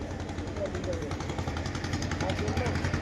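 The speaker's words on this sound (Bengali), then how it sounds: "এই আমাদের ট্রলার লঞ্চ, বললো অনেক বড়, কিন্তু বড় তো নয়, তো ছোট।" A small trawler launch boat engine chugs with a rapid, steady knocking rhythm, close and continuous, while people talk over it.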